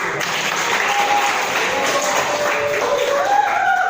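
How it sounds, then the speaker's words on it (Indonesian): A classroom full of people claps steadily for a few seconds, a dense, even patter of applause with faint voices mixed in. "Tepuk tangan."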